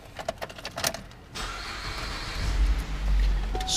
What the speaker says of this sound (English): Let's hop in and start it up.